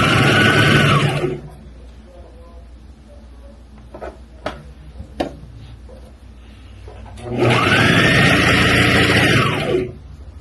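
A sewing machine stitching an abaya runs in two loud, close bursts of steady whirring, separated by a quieter pause with a few sharp clicks and handling knocks, no voices heard.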